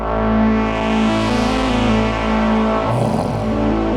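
An Archaea Loki synthesizer plays a sustained, heavily distorted drone with its reverb turned up high, producing a dense, swelling wash of tones that shifts and blurs near the end, loud and alone with no voices.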